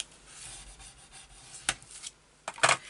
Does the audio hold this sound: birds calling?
no